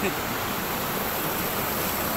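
A river at Cabulay, Santiago City rushes in a steady, dense wash of flowing water, loud and close, with no break or change across the moment.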